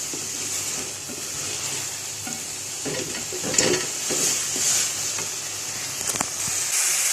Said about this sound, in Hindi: तो दही को हम फ्राई इसलिए कर रहे हैं कि दही का जो पानी है वो ख़त्म हो जाए।